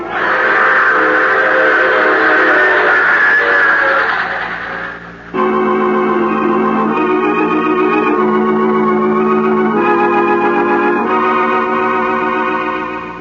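A loud, sustained train whistle with steady harmonic tones, pausing briefly, then sounding again with shifting chord-like pitches over a low rumble.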